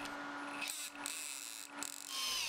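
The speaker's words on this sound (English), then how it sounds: "I could then use the drill while guiding the dowel with my hand to polish up the brass" A handheld power drill spins a wooden dowel wrapped in wet and dry paper to polish brass, a faint whirring run broken by a few short pauses as the drill stops and starts.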